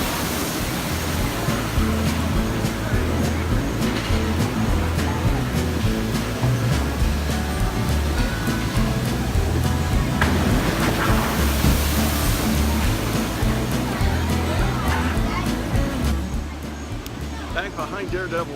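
At Dollywood, a log flume ride's boat plunges down a big drop into water, giving a loud, continuous roar of rushing and splashing water. A crowd babbles beneath it, and the roar eases near the end.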